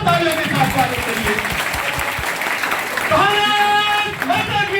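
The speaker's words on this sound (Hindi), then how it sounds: "जोरदार तालियों के साथ स्वागत करिए।" A crowd at a public function breaks into applause that swells under amplified voices and music, with bursts of clapping between sustained tones and chanting.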